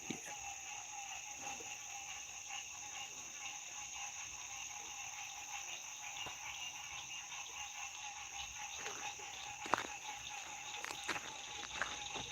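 A nighttime chorus of frogs drones on steadily and quietly, mixed with insect-like trilling and a few scattered clicks and taps nearby, with no talking.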